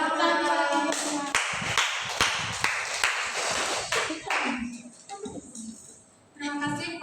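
A class of children clapping for their teacher: short bursts of sharp, uneven hand claps mixed with voices, a brief quieter gap, then clapping and voices again.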